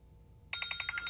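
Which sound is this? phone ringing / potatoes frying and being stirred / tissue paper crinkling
phone ringing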